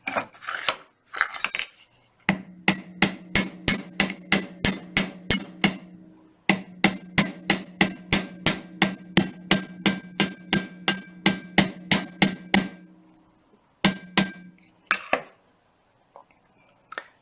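Sharp metallic hammer taps on wire for a pendant ring out in quick, even runs of around a dozen strikes each, separated by short pauses, close and bright.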